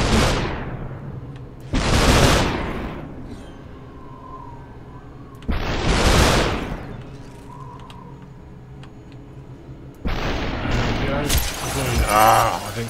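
Gunfire and shattering glass in the video game SUPERHOT: three loud bursts of shots and breaking glass, spaced a few seconds apart, over steady game background noise.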